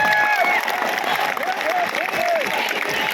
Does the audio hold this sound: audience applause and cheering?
yes